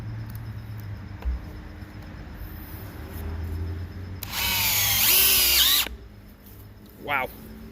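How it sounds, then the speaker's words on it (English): A DeWalt DCD996 hammer drill boring through oak, with one loud whining burst lasting about a second and a half, a short rising whir near the end and a quiet low hum between them. "It's going right through this oak. Let's try it on speed 3."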